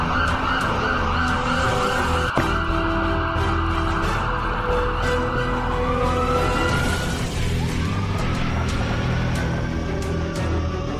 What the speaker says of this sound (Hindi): एम्बुलेंस को बहुत ही तेज़ भगाना होगा हमें दोस्तों।